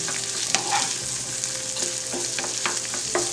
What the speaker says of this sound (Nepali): अब यसलाई चाहिँ 3 मिनट्स भुट्नुपर्छ, अलिकति कलर चेन्ज नभएसम्म प्याजको।